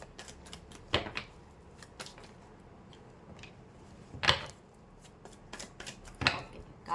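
Tarot cards are shuffled by hand during a reading, giving soft papery riffles and several sharper snaps and slaps at irregular intervals, close and fairly quiet, with faint background voice.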